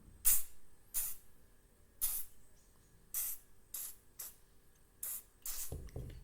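Oil sprayed onto a rusty screw on a hand tool: a series of short, sharp hissing spray bursts spaced about a second apart, close and fairly quiet, with near-silence between them.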